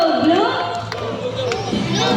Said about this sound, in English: Come on boys, let me hear you cheer.